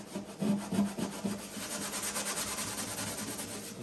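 Scotch-Brite pad scrubbing the firewall panel of a Trans Am, a steady rapid abrasive rubbing that runs close and continuous from start to end with no talk.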